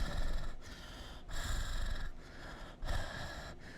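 A person imitating heavy, hard breathing, with three loud, rough, wheezing breaths spaced a little over a second apart, each a long noisy rasp.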